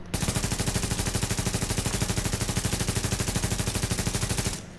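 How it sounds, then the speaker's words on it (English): Sustained automatic AK rifle fire at long range in The Division, a loud, fast and perfectly even stream of shots rattling for over four seconds before cutting off abruptly. "Trying to go for a headshot with this AK is nearly impossible, guys, at long range."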